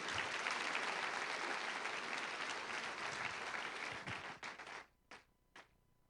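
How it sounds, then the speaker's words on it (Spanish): Dense applause from a church congregation, a loud continuous wash of many hands that gradually dies away, leaving a few final isolated claps. "Dale un aplauso al Rey."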